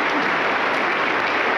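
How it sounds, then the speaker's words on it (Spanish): A Pentecostal church congregation in Huancayo claps and applauds together, a steady, dense wash of hand claps sustained from start to finish without pause. "Aplausos contentos para el Señor Jesucristo. Fuerte, fuerte las palmas."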